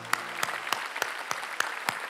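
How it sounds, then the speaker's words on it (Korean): A church congregation claps together during a Sunday worship service, giving a steady run of sharp, evenly spaced hand claps about every third of a second with no voices over them. "감사의 박수를 올립시다."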